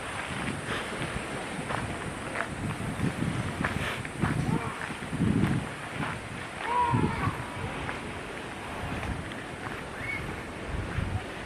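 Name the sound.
strong wind outdoors on a hiking trail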